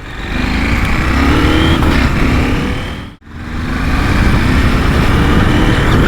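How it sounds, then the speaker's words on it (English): KTM 890 SMT supermoto touring motorcycle, 2023 model, accelerates hard with a loud, continuous engine roar and rising pitch, cut by a brief drop at a quick-shift gear change before pulling strongly again. "Squirting the gas, quick shifting."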